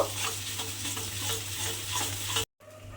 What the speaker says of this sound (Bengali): সেই তেলের মধ্যে কিন্তু আমি এই মশলাটা দিয়ে দিলাম মশলাটা দিয়ে এবার খুব ভালোভাবে একটু কষিয়ে নেব